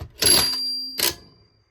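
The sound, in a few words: toy cash register bank sound when a quarter is inserted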